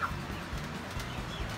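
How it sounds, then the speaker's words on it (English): Cornish Rock Cross cockerels, broiler meat chickens crowded inside a coop, make low murmuring clucks under a steady blanket of rustling and background noise. "they are Cornish Rock Cross Cockerels, and they are broiler chickens"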